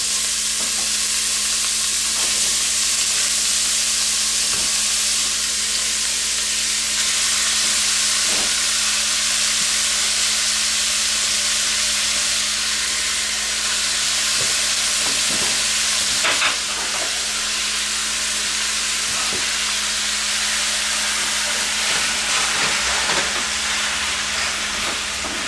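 Hamburger meat frying in a pan for taco soup, a steady broadband sizzle with occasional crackles and stirring scrapes, continuous and fairly loud throughout with no talking.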